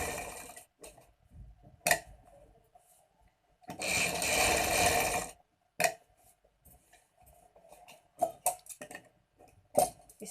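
A sewing machine stitches fabric for a kaftan dress in one sustained whirring run of about a second and a half, surrounded by quieter scattered clicks and handling taps.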